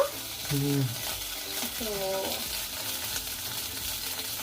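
Veg seekh kebabs fry in hot oil with a steady close sizzle, joined by a few brief tonal sounds near the start.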